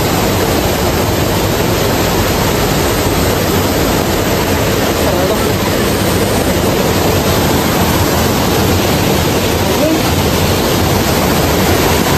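Water stream at a riverside spot near a temple in Kolhapur district, flowing more gently here, gives a loud, steady broadband rush that fills the whole stretch without pause.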